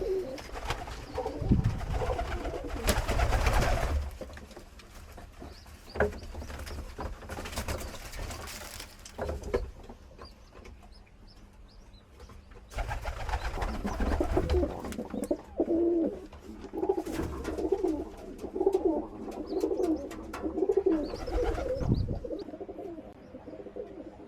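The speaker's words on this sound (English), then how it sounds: "The doves have settled in really, really well" Doves coo softly at a dove loft in a garden, soft repeated calls under steady outdoor background noise with occasional louder rustles, no voices.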